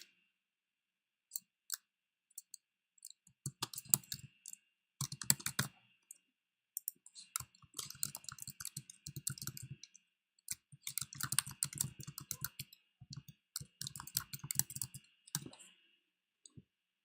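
Mouse clicks and keyboard typing during work in the Canvas course site, heard as sparse single clicks and then quick, irregular runs of keystrokes, close and fairly quiet, with no voices.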